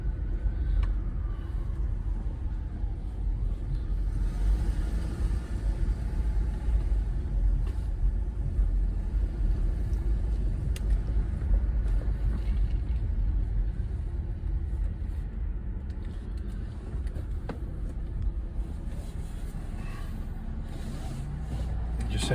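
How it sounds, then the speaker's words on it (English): A car pulls out of a Domino's parking lot, its engine a steady low rumble heard from inside the cabin, with faint road noise running throughout. "I'm pulling out of Domino's parking lot right now"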